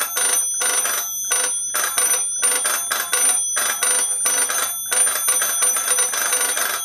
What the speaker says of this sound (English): It's got a really nice bell to it.